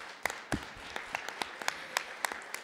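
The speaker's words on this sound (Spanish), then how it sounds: "Lo cual también pido un aplauso para él y para su equipo" Scattered applause from a small audience at a forum on rare diseases in Mexico, with sparse, faint individual handclaps at irregular intervals, fairly distant and thin.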